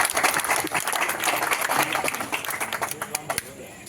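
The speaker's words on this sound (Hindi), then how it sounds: "एक बार जोरदार तालियां लगाई जाए इनके लिए।" Crowd at a village rally in Nauratha clapping loudly and steadily, then thinning into scattered individual claps toward the end, with voices mixed in.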